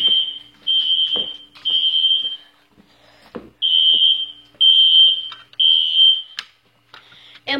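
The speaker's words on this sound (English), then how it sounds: "And my fire alarm was set on code 3." Fire alarm sounding with a code 3 pattern: loud, piercing high-pitched beeps in groups of three, each about half a second long, separated by short gaps, with clicks and thumps in between.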